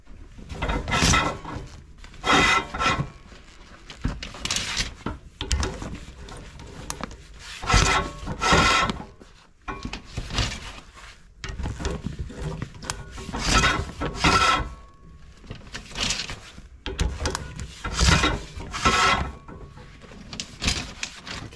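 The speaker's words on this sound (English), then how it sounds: "So let's push the rods to the top." Chimney sweep rods are pushed up a chimney while a Contura stove is cleaned, giving repeated bursts of close, loud scraping and rubbing separated by short pauses, with no talking.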